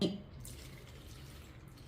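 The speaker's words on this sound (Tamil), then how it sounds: "அதுக்கு 3 கப்பு தண்ணி ஊற்றி நல்லா கரைச்சி வச்சிடணும்" Water poured into ragi (finger millet) flour while mixing it for ragi kali, a soft steady splashing and trickling of liquid that holds at low level for about two seconds, fairly close.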